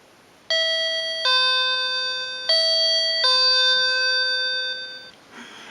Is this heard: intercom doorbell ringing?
yes